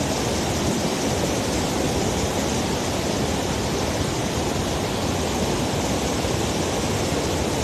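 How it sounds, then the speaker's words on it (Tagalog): Strong river current rushes loudly and without a break, a dense, even roar of churning water with no voices. "Lakas ng agos."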